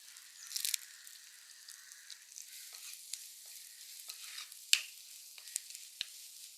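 Crushed ginger and garlic fry with shallots, green chillies and curry leaves in a pan for a prawn dish, giving a soft, faint sizzle broken by a few scattered stirring clicks; no one speaks.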